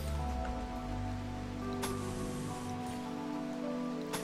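Steady rain falls throughout a RimWorld colony game scene, a continuous even hiss with a few sharper transient ticks, with no talking.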